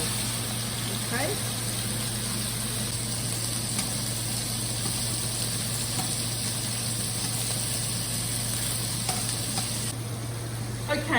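Chicken seasoned with salt and pepper browning in a pan on high heat for an African chicken stew, a steady loud sizzle running throughout with faint stirring and a low steady hum beneath.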